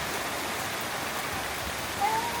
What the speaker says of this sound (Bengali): বৃষ্টি তুমি কবে বিদায় নিবে এত বৃষ্টি আর ভালো লাগতেছে না